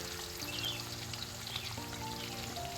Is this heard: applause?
no